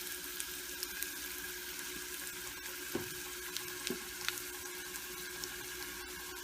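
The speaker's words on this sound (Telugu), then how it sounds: "జీలకర్ర, ఎండుమిర్చి ఇది కూడా వేసుకోండి. ఇవి కూడా వేగుతున్నాయి కదా" Cumin seeds and dried red chillies frying in oil with chana dal and urad dal, a steady soft sizzle running throughout with a few faint crackles and pops, no voices.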